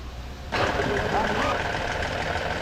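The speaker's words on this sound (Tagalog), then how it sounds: "umandar na yung makina" A 2016 Toyota Sequoia engine catches after a quiet moment and settles into a steady, loud idle that runs on to the end.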